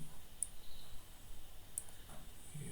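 Two or three faint, separate mouse clicks sound during drawing in Krita, soft ticks over steady low background hiss.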